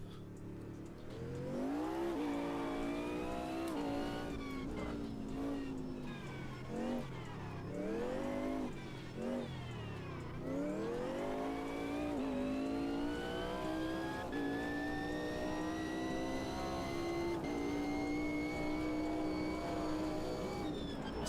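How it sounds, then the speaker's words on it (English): Race car engine in the Assetto Corsa racing game, loud and continuous, revving up and down through gear changes with rising and falling pitch, steady throughout with no talking. "This car sounds nice."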